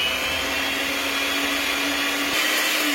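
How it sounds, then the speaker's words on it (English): Electric hand mixer whirring steadily while beating icing made with powdered sugar, a loud constant motor drone with a slight pitch shift near the end. "Now what I'm going to use is hand mixer and get that all juiced together"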